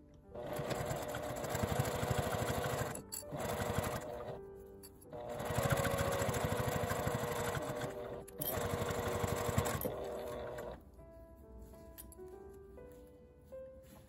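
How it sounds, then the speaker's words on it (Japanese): A sewing machine stitches along a folded-up zipper edge on a fabric coin-through wallet bag, running in three loud sustained bursts with short pauses between them, then fading to quieter handling sounds. "さっき縫った縫い目の下を縫います。 端はファスナーを折り上げて縫います。"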